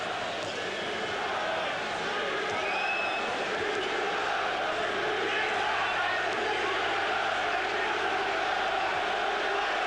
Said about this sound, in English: And already the crowd are chanting the names of Ben and Eubank.